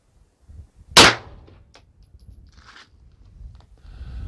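A single sharp gunshot from a rifle firing reloaded ammunition during muzzle velocity testing. The crack is close and loud and decays quickly, followed by faint handling noises.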